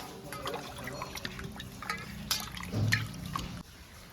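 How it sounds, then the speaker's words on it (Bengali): Lemon leaves rinsed in water in a home kitchen, with soft drips, trickles and splashes of liquid, close and moderately quiet, a slightly louder splash near the end. "লেবু পাতাগুলো ধুয়ে নিলাম"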